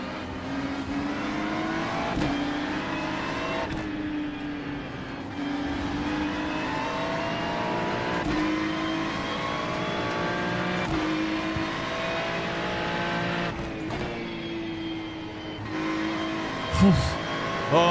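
Ferrari GT3 race car lapping Spa in the iRacing sim, its engine droning steadily with repeated gear-change dips and rising revs for the whole stretch, along with a brief sharp knock near the end.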